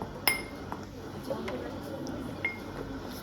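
A metal spoon clinks a few times against a container while medicine from opened capsules is prepared for feeding through a nasogastric tube, with sharp light clinks spread over a quiet room background.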